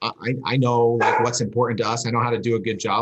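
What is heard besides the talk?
dog barking in the background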